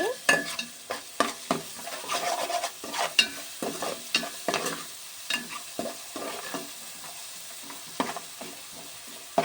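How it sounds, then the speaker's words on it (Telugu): Vegetables with a sprinkle of coriander powder and garam masala fry in a pan while being stirred, giving bursts of scraping and soft sizzling in an irregular rhythm, close by with no talking. "ఇందులో కొంచెం ధనియా పౌడర్, బాగా వేగాలండి ఇవి."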